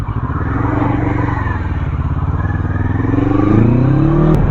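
A Kawasaki Versys 650 motorcycle accelerating hard, its engine note rising steadily and loud up close with wind rush, climbing through the gears with a brief dip before pitching up again.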